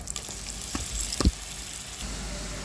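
Garlic and ginger sizzle steadily in oil left over from frying prawns, with a few sharp clicks and scrapes of stirring in the pan, close and moderately loud, without talking.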